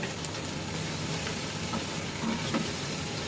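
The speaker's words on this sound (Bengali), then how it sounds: "এখন পেঁয়াজটা একটু ভাজা ভাজা হবে" Onions with whole garam masala frying in a pot for a pulao of about one and a half kilos, a continuous soft sizzle with faint clinks from stirring.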